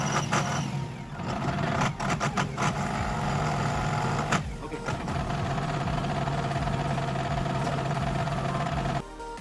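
A tender boat's diesel engine runs steadily after repair and refuelling, a loud continuous near rumble with a mechanical whine, holding constant before dropping slightly near the end.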